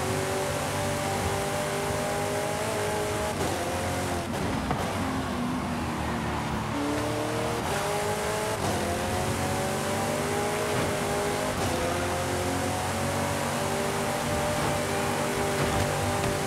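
Racing cars in Forza Horizon 5, including a Viper and a Ferrari, roar continuously with engines revving up and down through gear shifts, loud and close for the whole stretch, with no talk.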